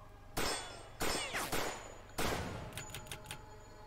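Gunfire in the demo of the video game The Citadel, firing at plasma balls: a few sharp, loud shots with ringing tails, followed by a quick burst of lighter clicking shots.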